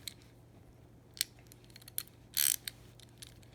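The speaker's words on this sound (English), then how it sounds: "I'm going to put my drive socket together here." A ratchet drive socket wrench is assembled by hand, giving sparse close metallic clicks and ratcheting ticks, one brief burst louder than the rest, over a low steady hum with no speech.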